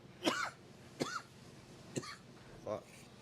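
Four short coughs spaced about a second apart, faint and close, with a quiet hiss underneath.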